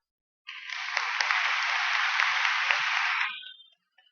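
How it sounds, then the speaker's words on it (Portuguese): Applause for a faculty at a 2019 university freshman welcome event, a dense, steady burst of clapping lasting about three seconds, rising suddenly and then fading out. "peço uma salva de palmas para a nossa faculdade"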